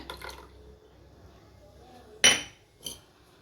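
A spoon clinks against a glass while mixing food colouring into a falooda custard drink, with one sharp clink and a fainter second one after a quiet stretch.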